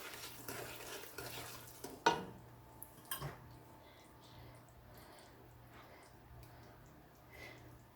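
Caramel mixture being stirred in a pan for homemade caramel candy, quiet scraping and swishing strokes with a sharp utensil knock early on, fading to soft faint stirring.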